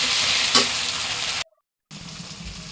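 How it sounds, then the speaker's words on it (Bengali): Garlic and onion for meat sauté in a hot pan with a loud, close sizzle and stirring scrapes, then a brief silent break before the frying sizzle resumes. "মাংসের জন্য কষাচ্ছি রসুন পেঁয়াজ"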